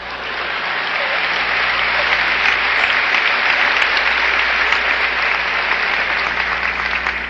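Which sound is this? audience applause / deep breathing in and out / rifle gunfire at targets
audience applause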